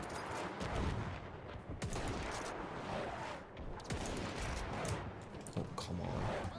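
Battle gunfire in the video game Mount & Blade: Warband, a steady, dense crackle of overlapping musket-like shots and rumbling volleys that continues without a break and stays loud throughout.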